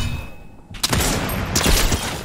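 Gunfire in the battle royale video game Fortnite during a no-building tournament match: a brief quiet lull, then a dense burst of loud, rapid shots and impacts that keeps going to the end.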